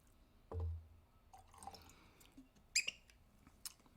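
Whisky poured into a glass: a brief low glug, then quiet trickling and a few sharp drips and clinks, close and fairly faint.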